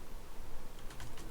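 Keys on a computer keyboard clatter in a short burst of quick, light taps, heard close and alone over a steady background hiss.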